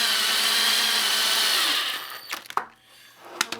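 A power drill drives a 2.5-inch screw with a T25 bit into wood, a steady loud whir for about two seconds, then stopping and giving way to a few short clicks and knocks.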